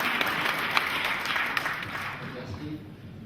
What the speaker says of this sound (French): Veuillez, s'il vous plaît, l'applaudir afin qu'il prenne place au micro.